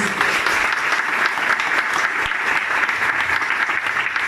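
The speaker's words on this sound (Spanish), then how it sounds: "Dame un aplauso a Jesús" Church congregation giving applause to Jesus, a full continuous round of hand clapping from the whole room, steady and moderately loud with no talking.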